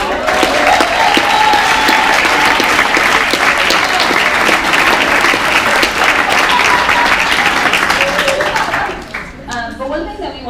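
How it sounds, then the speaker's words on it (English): A large indoor audience at a Girls' Ultimate Movement talk during the 2015 US Open ultimate frisbee event bursts into sustained, dense applause that stays loud and steady for about nine seconds before tapering off at the end. "We'll give you a round of applause."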